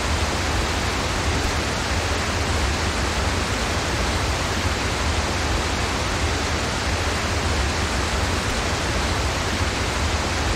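A rushing waterfall in a climbing video game makes a steady, dense roar of broadband noise that holds constant and loud throughout, with no voices over it.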